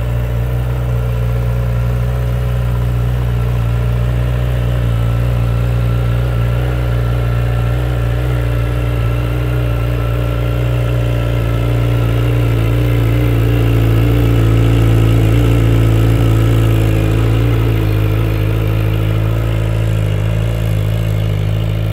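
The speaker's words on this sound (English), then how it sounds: "This is a cold start, which is why it's idling a little high." 2017 Honda CBR1000RR SP sport bike idles from a cold start at a slightly raised, steady rpm, a loud continuous close-up engine drone with a faint rise partway through and no talking.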